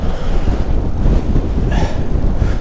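Strong gusting wind buffets the microphone on a walk, a loud continuous low rumble with irregular surges and no voices.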